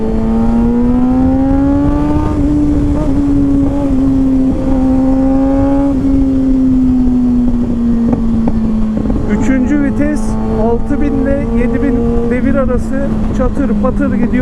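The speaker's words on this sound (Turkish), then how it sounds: "üçüncü vitesine bayılıyorum bu motorun. Acayip patlatıyor 3'te." A 2022 Kawasaki ZX6-R motorcycle fitted with an M4 exhaust pulls in third gear, its engine holding a loud, steady, slightly falling drone throughout, with voices talking over it in the later part.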